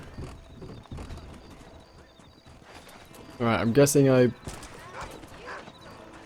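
A horse in the Red Dead Redemption video game gives a loud, close whinny with a rising then falling tone, set over faint hoof clatter, with someone talking before and after.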